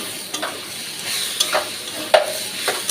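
Leafy greens (shak) frying in a pan, with a soft steady sizzle and several short scraping stirs of the spatula at irregular moments, close and alone.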